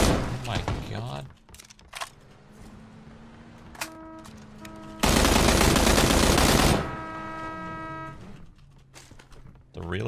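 Automatic AK rifle gunfire in the battle royale game PUBG, a dense loud burst of rapid shots in the middle, with scattered game sounds and tones around it.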